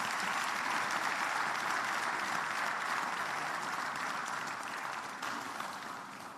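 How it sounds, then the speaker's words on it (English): A large audience at a live global network week session gives a dense, sustained round of applause that holds steady for several seconds before gradually easing off, with no voices over it. "Then give him another round of applause."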